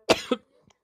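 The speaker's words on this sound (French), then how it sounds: "et en plus je tousse" A man gives a single sharp cough, a close, loud burst followed by a smaller second hack and a faint breath afterward.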